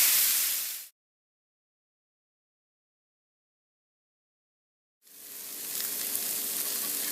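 Green beans and mixed vegetables frying in a pan, a loud close sizzle that cuts to silence for several seconds, then resumes at full strength.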